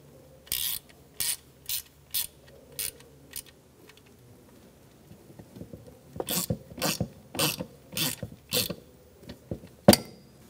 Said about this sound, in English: Let's snug up our bolts.